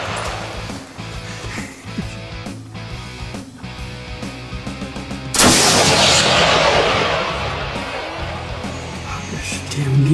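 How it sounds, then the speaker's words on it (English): A single loud hunting gunshot cracks out in the middle, then rolls into a long, fading outdoor boom over low background noise. "Good shot, Mr. Tim."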